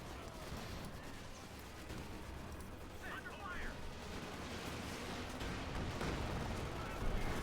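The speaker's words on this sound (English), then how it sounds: "Well, we got more rocket strikes there." Rocket strikes in the video game Company of Heroes 2 rumble as dense, overlapping booming impacts and crackling blasts, building in intensity toward the end, with background battle noise throughout.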